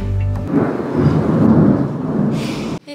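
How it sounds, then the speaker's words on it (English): Pouring rain with thunder on a mountain outing, a loud low rumble of thunder over a heavy roaring wash of rain that cuts off abruptly near the end. "It is pouring rain."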